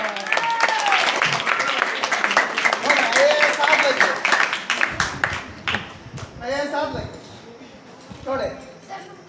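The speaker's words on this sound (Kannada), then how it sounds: "ಚಪ್ಪಾಳೆ ಚಪ್ಪಾಳೆ" Audience clapping at a Kannada fortune-telling gathering, a burst of applause layered with talk, then tapering into scattered, softer claps between voices.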